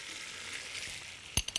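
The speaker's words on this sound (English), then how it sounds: "We're gonna add a little ginger." Ginger dropped into a hot pan sets off a sharp burst of sizzling frying near the end, over a steady low hiss of cooking; a couple of quick follow-up crackles come after it.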